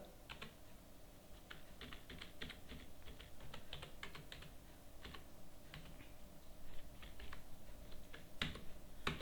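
Rapid, irregular keystrokes on a computer keyboard while a GST TIN number is entered, steady clicking over a low background hum, with a few louder taps near the end.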